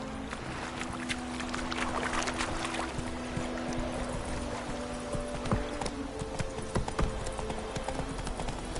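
Roach the horse gallops in The Witcher 3, a steady clip-clop of hooves running continuously and fairly close over ambient game sound and music, with no talk.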